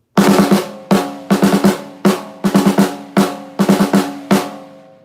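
Hand-played drum hits in a repeating pattern: quick clusters of sharp strokes separated by short gaps, each hit ringing briefly, loud and close.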